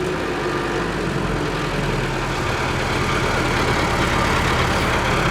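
A tractor engine idles steadily nearby during wildfire-fighting work in Yakutia, making a continuous low, even drone with no speech over it.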